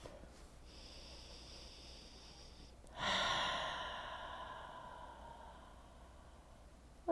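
During a gentle yoga session, a single deep breath rises, with a soft inhale, then a longer airy exhale that fades slowly, faint and close with quiet room noise behind it.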